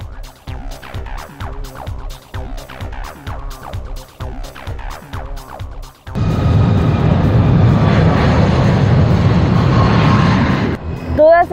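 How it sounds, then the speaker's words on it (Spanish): A small airplane at La Aurora airport in Guatemala, being readied for a military parade. Someone talks excitedly at first, then a loud, steady engine roar takes over and holds close for several seconds. "¡Miren cómo van jalando la avioneta!"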